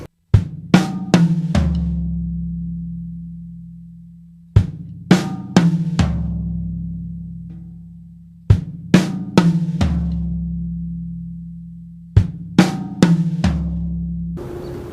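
Gospel drum fill rolling across kick, snare, rack tom and floor tom, repeated four times, each pass ending with a ringing low tom that decays before the next starts.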